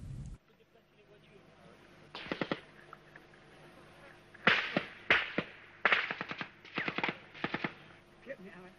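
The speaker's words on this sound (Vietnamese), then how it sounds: "Dân quân tự vệ của làng bắn về phía bộ đội Việt Nam đang tiến đến." Village militia firing guns toward advancing Vietnamese army troops in 1975 wartime Vietnam. Sharp, cracking bursts of rapid gunfire come in several clusters, loud and fairly close, separated by short quieter gaps.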